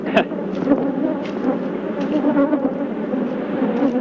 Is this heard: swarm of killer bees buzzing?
yes